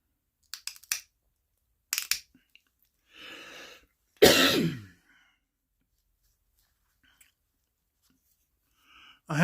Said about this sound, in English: for some reason, looking down makes me cough.